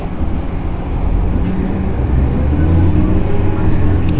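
KRD Kedung Sepur, a local train on Indonesia's northern line, running at speed: a loud, steady low rumble and rattle that builds slightly, heard close from on board.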